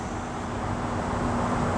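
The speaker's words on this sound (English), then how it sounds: "I apologize for the sound of the traffic. My windows are open." Steady road traffic with trucks and buses passing, heard through an open window as a continuous broadband roar with a low hum, moderately loud and unbroken throughout.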